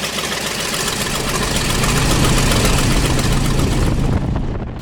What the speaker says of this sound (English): It's got a big 300 horsepower radial engine, 9-cylinder